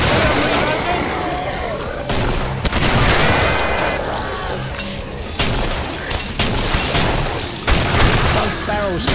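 Shotgun blasts from a double-barreled shotgun in the Killing Floor video game, set in a foundry level, fire as loud booms amid continuous combat noise and other gunfire, with a character's voice speaking over the chaos.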